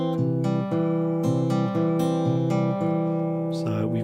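Fingerstyle guitar plays alone: a two-bar figure that joins two picking patterns, with steady plucked notes ringing over one another in an even, flowing rhythm, close and clear.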